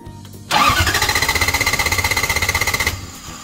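A Toyota 1UZ V8 fitted in a Celica cranks over on the starter in a steady rapid rhythmic chug with a whine on top, loud and close, running about two and a half seconds before stopping without catching.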